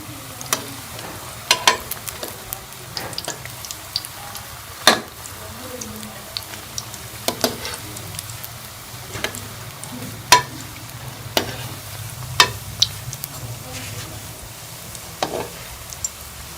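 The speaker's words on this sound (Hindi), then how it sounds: "ऐसे गोल्डन होने तक फ्राई कर लेंगे दोनों साइड से।" Pakoras deep-frying in hot oil until golden on both sides give a steady crackling sizzle, with scattered sharp clicks and pops and occasional stirring or turning sounds. No voices.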